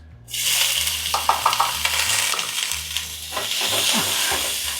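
Ghee and olive oil heating in a pan give a steady, close sizzling hiss, with light crackles and a low hum underneath and no one talking.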